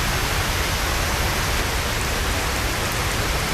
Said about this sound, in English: Raining, tipping it down, sound design.